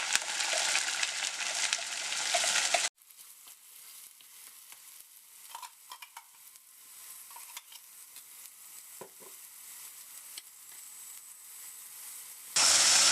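Masala for channa dal gravy frying on a low flame in a pan: a soft, steady sizzle with scattered light crackles and occasional stirring clinks, bracketed by louder bursts of sizzling hiss at the start and end.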